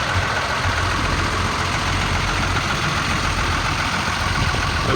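A 2002 Sterling M8500 bucket truck's diesel engine idles steadily nearby, a constant low rumble with a faint knocking texture and no talk over it.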